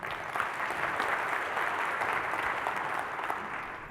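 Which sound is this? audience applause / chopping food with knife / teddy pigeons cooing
audience applause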